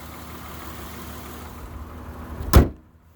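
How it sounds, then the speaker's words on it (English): With a 2003 Honda Odyssey EX-L at 149k miles idling quietly, its hood comes down in one sharp, close slam, followed by near silence. "Close the hood."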